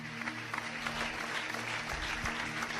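Congregation applauding during a church sermon, a dense steady patter of many hands at moderate level throughout, with a low hum underneath.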